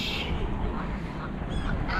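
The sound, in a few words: mallard ducks quacking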